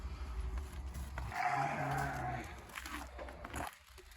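Sheep and lambs bleat amid a noisy barn-like background, one drawn-out bleat standing out in the middle, no talking.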